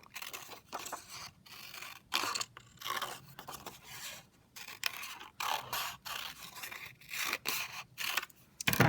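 Scissors snipping through paper in a craft cutout, a series of crisp, irregular cuts and rustles with short pauses between bursts, close and moderately quiet, no one speaking.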